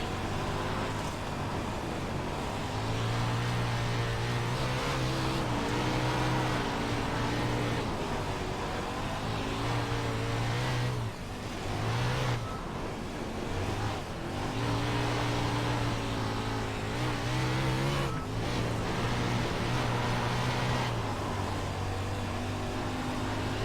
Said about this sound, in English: Now we'll see kind of how a 410 Wing Sprint car runs when it's really,